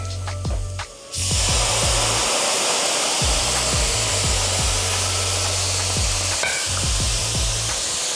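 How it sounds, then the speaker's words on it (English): White wine hits a hot pan of shrimp scampi and erupts into a sudden, loud, hissing sizzle that holds steady for several seconds, with a low hum and occasional utensil clinks underneath, no voices. "I'm gonna go ahead and take my wine and we're gonna deglaze this pan"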